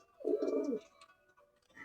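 A Pakistani pigeon gives one low, rolling coo lasting about half a second, close and clear, followed by quiet.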